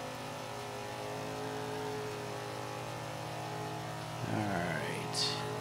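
Nissan Silvia Spec R racing in Forza 5, a steady mid-pitched engine drone holding through a lap, rising into a brief rev and pitch sweep near the end.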